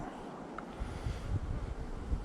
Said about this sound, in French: Parce que le vent arrive comme ça et j'ai pas envie que ça s'infiltre.